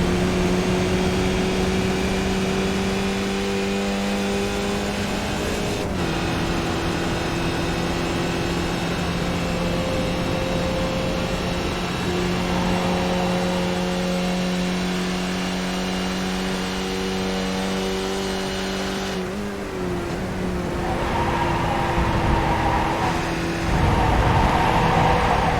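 Race car engine in the iRacing simulation at Road Atlanta, held at a steady high drone through a long pull, with a gear change near six seconds and another shift and lift near nineteen seconds before revving back up.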